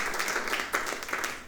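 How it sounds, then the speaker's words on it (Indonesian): Audience applause for a tech team in a church service hall, a steady wash of clapping with rhythmic bursts, moderately loud and continuous throughout the short stretch. "kita berikan tepuk tangan buat mereka"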